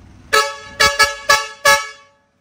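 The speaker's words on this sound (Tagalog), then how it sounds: "Sound check naman natin pre, yung air horn natin dyan." A vehicle air horn sounds five short, loud blasts in an uneven sequence, the second and third close together, each with a rich harmonic tone, then cuts off into silence.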